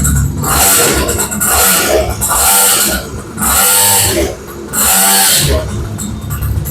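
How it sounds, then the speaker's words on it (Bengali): A 49cc kids' sports bike engine starts and runs close by, revving in repeated loud bursts that rise and fall every second or so, while voices talk over it. "এই যে স্টার্ট করে ফেললাম দেখতে পাচ্ছেন যে বাইকটা কিন্তু স্টার্ট হয়ে গেল"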